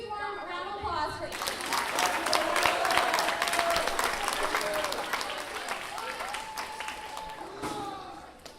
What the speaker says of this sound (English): everybody give a huge warm round of applause for